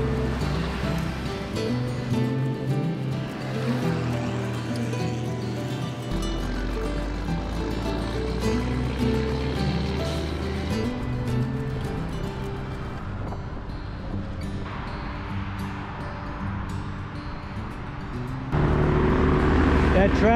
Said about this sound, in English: Traffic going north from the city goes on like that for miles and miles and miles.